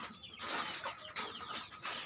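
Close-up chicken clucking, a few short bird calls in quick succession over a noisy background.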